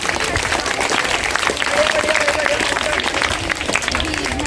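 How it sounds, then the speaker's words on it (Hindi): School audience at a quiz competition applauding a team, loud sustained clapping from a large crowd filling the whole clip, with voices mixed into the noise. "उनके लिए भी जोरदार तालियां।"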